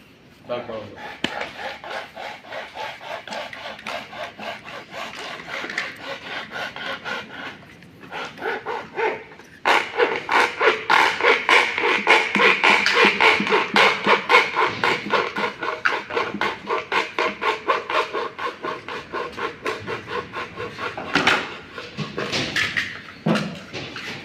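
A hand saw cuts a 90-degree L shape into a workpiece with rapid rhythmic back-and-forth strokes, starting in short bursts and then sawing continuously and loudly near the listener, with brief pauses between passes.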